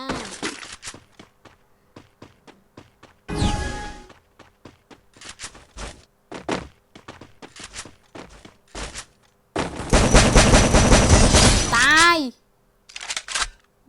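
MAG-7 shotgun fire in the video game Free Fire comes in clipped bursts and single reports amid in-game footsteps and effects, with someone talking over the action in Thai.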